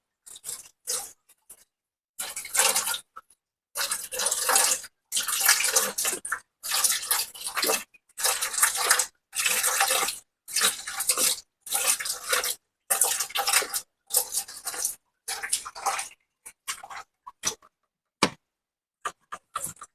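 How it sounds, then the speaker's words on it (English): Coolant trickles out of the overflow reservoir of a 1997 Dodge Neon while a hose is pumped, heard as a choppy series of short wet gushes and drips separated by brief silences, fairly close. "It's working. That overflow is draining down."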